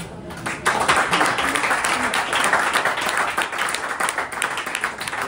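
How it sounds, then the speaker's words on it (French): An audience at the final of a partner-selection competition at Le Bourget 2025 gives loud, sustained applause to the performers, a thick continuous patter of many hands throughout. "Merci beaucoup, on peut encore les applaudir."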